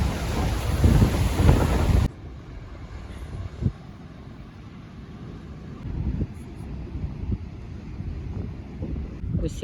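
Stormy Black Sea waves and wind on a beach, heard as heavy wind buffeting the microphone and a roaring surf wash, loudest at first and then a steadier rumble of waves with occasional thuds.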